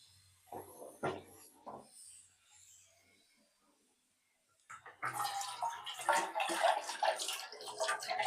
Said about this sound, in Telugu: ఇప్పుడు ఫ్రెండ్స్ చింతపండు రసం పోసేసుకుందాం.